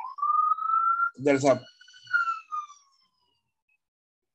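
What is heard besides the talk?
ambulance siren passing by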